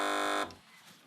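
A game show buzzer gives one loud, harsh electronic tone for less than half a second, then cuts off into faint room noise.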